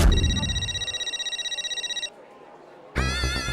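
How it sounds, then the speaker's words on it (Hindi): A phone ringtone trills in rapid repeating pulses for about two seconds, stops, and after a short pause a bright electronic tone starts up. "माधवी का फोन, ये क्यों फोन कर रही है?"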